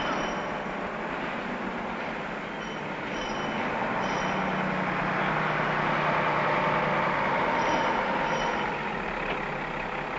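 Unimog lift-platform truck reversing toward an interchangeable load platform, a steady rumbling engine and drivetrain hum with a faint high whine, continuous and close, with no talking.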